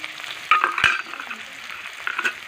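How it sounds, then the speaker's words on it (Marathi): Onion sizzling in hot oil with browned garlic, a crackling fry close by with stirring scrapes and a couple of louder clanks from the utensil. "त्यामध्ये लगेच आपल्याला कांदा घालून घ्यायचा"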